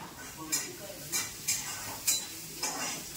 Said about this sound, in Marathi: आता इकडे पाहू शकतो आपण कांदा मिरची तेलात फ्राय करायला चालू.